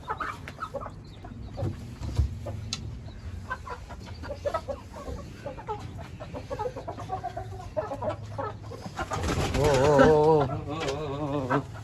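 A hen and rooster cluck and squabble at close range, with scattered clucks building to a louder burst of agitated calls and a squawk near the end.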